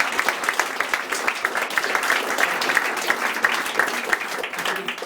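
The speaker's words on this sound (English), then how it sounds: "I think you didn't get a round of applause for that." An audience applauds a colleague at his farewell on his last day at the National Portrait Gallery. The dense, steady clapping is fairly loud and continues throughout without a break.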